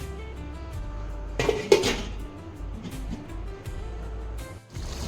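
A metal lid is lifted off and set back on a pot of simmering Hyderabad-style dahi chicken, producing a couple of clanks close by over a low steady kitchen hum.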